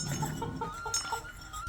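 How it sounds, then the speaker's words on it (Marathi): A native country rooster gives a run of soft, evenly spaced clucks, fairly close but quiet, over a faint outdoor background. "प्युअर गावरान कोंबडा आहे."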